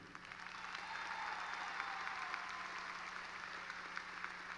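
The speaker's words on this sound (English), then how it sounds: "Let us give our seniors a round of applause for their volunteering." A large graduation audience at Stony Point applauds the seniors, with an even wash of many hands clapping that sounds distant and fairly soft and continues without a break.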